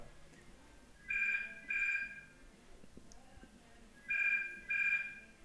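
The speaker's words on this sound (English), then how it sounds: "mid phone call. I'm not going to answer that. Just wait for it to go." A phone rings with an incoming call in two pairs of bright, evenly spaced electronic tones. It sits fairly close over a quiet room background while the call goes unanswered.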